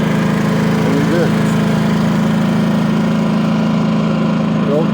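A propane backup generator runs steadily and loud after starting, its low engine drone humming without a break, with faint voices now and then over the noise.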